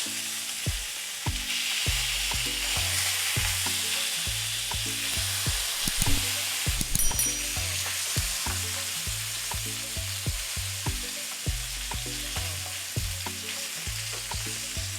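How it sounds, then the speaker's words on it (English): Salmon pieces sizzle steadily in a pan over a medium flame, a close, constant crackling hiss with faint stirring and rhythmic background music beneath it. "So on a medium fire now, I'll be trying to turn my fish sideways."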